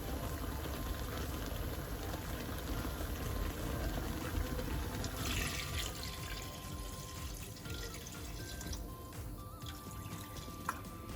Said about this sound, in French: on va laisser mijoter notre viande entre 20 et 30 minutes pour avoir une viande bien fine